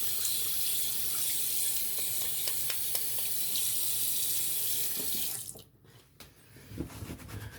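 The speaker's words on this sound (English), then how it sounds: "Let's rinse our fingers off because they are so soapy and we do not want to drop our nice razor." Tap water runs steadily into a sink while soapy fingers are rinsed during a shave with a 1970 gold-plated Gillette Super Adjustable razor, a constant close splashing rush that stops abruptly near the end, leaving a few faint drips and handling noises.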